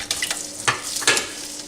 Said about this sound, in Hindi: प्याज को बस इतना फ्राई करना है कि ये ट्रांसपेरेंट हो जाए।